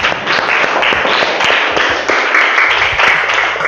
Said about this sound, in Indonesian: Boleh kita aplaus buat teman-teman kita?